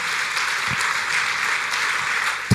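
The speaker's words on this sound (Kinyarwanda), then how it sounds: "Dukomere Imana amashyi menshi cyane" A church congregation applauding during a worship service, a steady dense wash of clapping throughout at moderate loudness, with no voice on top.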